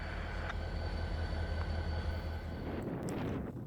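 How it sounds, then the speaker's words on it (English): CN northbound intermodal and auto freight train approaching on a spring afternoon, a steady low rumble with a continuous hum and faint brief squeals, moderately distant and alone. "The train on the approach is what I believe to be CN Q193, a northbound intermodal and auto train heading for Prince Rupert"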